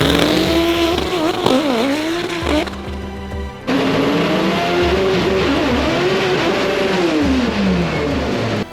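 Black Zenith EVO drag race car at the World Cup Finals, its loud engine roaring and rising in pitch, dropping sharply at a gear shift, then climbing again under hard acceleration, close and continuous.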